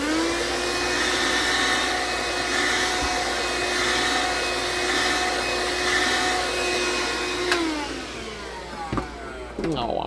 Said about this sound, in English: I'm about to vacuum a stink bug